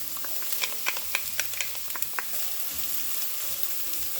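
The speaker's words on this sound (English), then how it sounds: "Stir all of this together and continue to cook until these veggies are tender" Peppers and onions in avocado oil fry in a pan with a steady low sizzle, punctuated by a quick run of light pops and crackles early on before settling into an even hiss.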